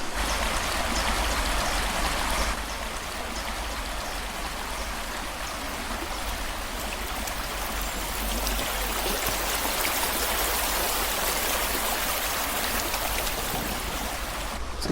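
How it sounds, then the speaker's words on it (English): Steady rushing of a stream with water spilling over small falls and old dams in a nature reserve in Sheffield, a continuous broadband wash close by with no voices. "full of old dams and beautiful little waterfalls."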